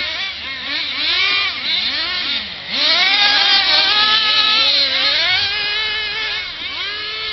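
Engines of cars drifting nose to nose around each other wail and rev continuously, pitch swooping up and down as they slide, loud and close, without talk.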